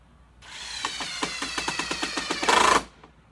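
A cordless power drill drives a screw into a wooden Muskoka chair, its motor ramping up with rapid clicking pulses as the screw bites, then a louder final whine before stopping, close and alone.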